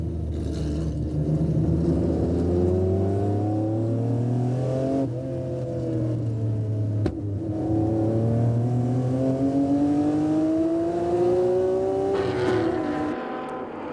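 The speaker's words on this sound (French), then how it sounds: "La caméra s'est glissée dans la Ferrari numéro 1 de Keul" Onboard a Ferrari race car at the Paul Ricard circuit during the Tour Auto, the engine loud and close as it climbs through the revs, shifting gears and pulling again.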